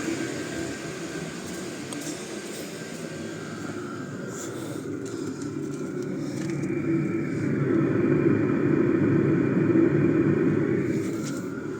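Steady droning rumble of a running autonomous diesel air heater and its exhaust, a continuous low-pitched roar that swells slightly louder in the second half, with no talking.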